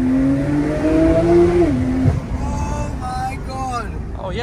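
A de-catted Porsche Turbo S accelerating hard, its engine note rising steadily, then dropping briefly as it shifts and climbing again, loud and close inside the cabin while occupants exclaim excitedly.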